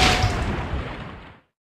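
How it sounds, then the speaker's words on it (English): A single explosion in a game, a loud bright boom at the start that rumbles and fades into a decaying wash over about a second and a half, then cuts to silence. "We thought an explosion happened over here."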